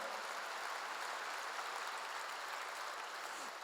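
A church congregation applauding during a sermon, a dense, even wash of many hands clapping at a distance, steady throughout and fairly faint.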